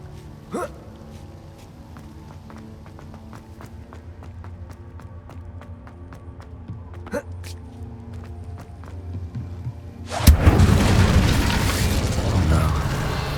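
An Incendio fire spell in Hogwarts Legacy on PS5: after a stretch of quiet footsteps, clicks and soft ambient tones, a sudden loud whooshing burst of flame erupts near the end and keeps roaring for the last few seconds.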